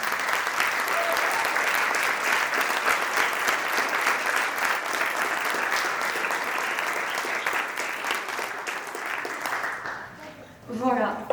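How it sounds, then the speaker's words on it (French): Audience applause at a TEDx University of Strasbourg opening address, steady dense clapping from a large crowd lasting about ten seconds before fading out, followed by a brief voice. "J'aimerais qu'on les applaudisse très fort parce que c'est leur produit."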